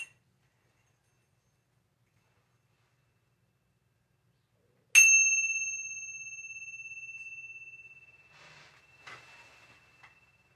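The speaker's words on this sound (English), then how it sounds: "I'm going to end this meditation with a chime." A meditation bell is invited once to close a meditation session, ringing out with a single clear struck tone that sustains and slowly fades over several seconds, followed by faint soft rustling.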